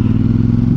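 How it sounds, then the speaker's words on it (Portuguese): A CFMoto 450 MT motorcycle's exhaust rumbles up close in a brief, loud, throbbing burst with fast pulsing beats. "E pá, mas estes pipocos do escape,"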